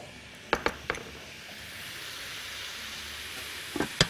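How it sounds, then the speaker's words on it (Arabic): Chicken liver and gizzards sautéing in a pan with salt and pepper, a steady close sizzle throughout, broken by a few sharp clinks of a utensil against the pan near the start and end. "وهنا اهو التشويحة شغالة كويس قوي"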